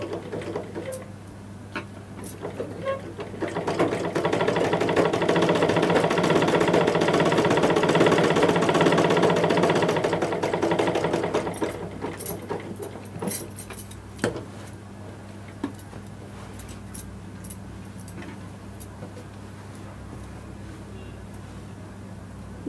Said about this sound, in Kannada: ಈಗ ಇಲ್ಲಿಗಿಟ್ಕೊಂಡು ಹೊಲಿಗೆ ಹಾಕ್ತಾ ಇದ್ದೀನಿ.